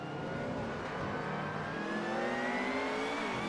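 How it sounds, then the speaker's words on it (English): A racing car engine in Assetto Corsa revs loudly and steadily, its pitch gliding upward with a rising whine over a constant rumble. "It's quite meaty, that engine sound."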